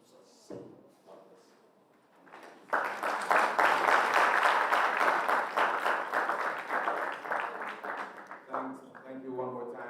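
Audience applause for the chairman at a research day opening plenary: after a quiet start with a few speech sounds, a hall of clapping swells in abruptly and holds steady before thinning as a voice returns.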